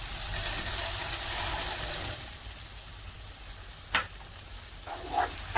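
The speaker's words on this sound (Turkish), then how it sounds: "Bulgur da kavuracağım." Bulgur roasting in a pan with onions and tomato paste, giving a soft, steady sizzle throughout with a few brief stirring scrapes near the end; no talk.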